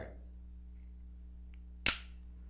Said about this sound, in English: hold it a little close so you can hear it when the firing pin goes off